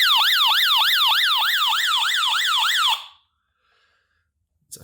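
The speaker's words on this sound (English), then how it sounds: "It's a flashing red light and just a god-awful siren sound." The SOS siren of a SUNGLIFE hand crank solar emergency weather radio blares close and loud, a fast rising-and-falling electronic wail repeating for about three seconds, then cutting off to silence before a small click.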